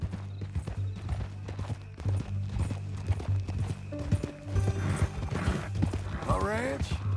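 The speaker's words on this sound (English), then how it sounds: "That a new horse?" Horse hooves clip-clop steadily at a walking pace in the Western game Red Dead Redemption, a near, rhythmic clatter running beneath background music, with a horse whinnying near the end.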